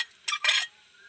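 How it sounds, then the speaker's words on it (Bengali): Grated egg worked into mashed potato with a spoon: two quick, close scraping strokes in a row, then quiet. "সেই ডিমটাই এর মধ্যে আলুর মধ্যে দিয়ে দিচ্ছি আমি"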